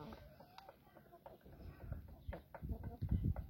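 Chickens and a rooster of the Brahma breed in a coop, with soft clucks and scattered calls rising in loudness toward the end, mixed with low rustling and a voice speaking nearby.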